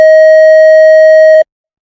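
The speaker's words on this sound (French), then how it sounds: "cliquez de nouveau sur Générer, Tonalité, et changez la fréquence pour la régler à 630" A steady 630 Hz sine tone generated in Audacity sounds loud and pure for about one and a half seconds, then cuts off abruptly into silence.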